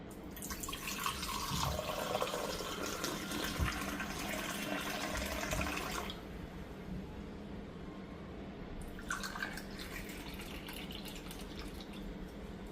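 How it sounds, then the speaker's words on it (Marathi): Salted gooseberry (amla) sherbet poured into a glass in a home kitchen: a steady liquid stream splashes and trickles for about six seconds, stops, then a shorter second pour follows, close and fairly loud with no talking. "आता आपण हे सरबत ग्लासमध्ये ओतून घेऊया"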